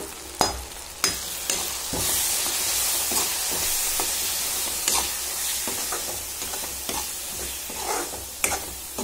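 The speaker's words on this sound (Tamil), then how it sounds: "நல்லா வணக்கிக்கலாம்." Sambar powder and asafoetida sautéing in a pan for garlic kulambu: a steady close sizzle and hiss, broken by sharp spoon scrapes and stirring knocks at irregular intervals.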